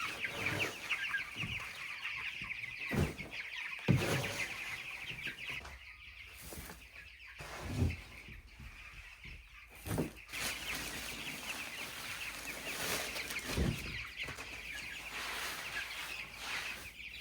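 Cornish Cross meat chickens, about four weeks old, cluck softly and intermittently, short scattered calls over a quiet, steady background hum.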